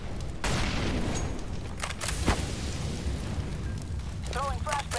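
A Molotov fire grenade bursts in a CS:GO match, a dense roaring whoosh of flames with scattered sharp cracks and gunfire pops over steady game noise.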